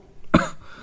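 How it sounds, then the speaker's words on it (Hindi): A single sharp, loud cough bursts out after a quiet moment, then fades into faint room noise. "काफ़ी जोर की खांसी है"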